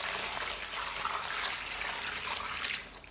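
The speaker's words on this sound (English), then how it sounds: "Then pour in enough clean water to fully submerge the corn." Clean water pours steadily into a basin holding corn, a continuous broad splashing rush that stays loud and close without a break.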